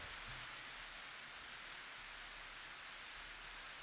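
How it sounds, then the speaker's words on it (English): Rain pours steadily in the Minecraft video game, a constant, soft hiss of falling water with no breaks, quiet and even across the whole stretch with no voices. "It's so very Minecraft of them to have it rain."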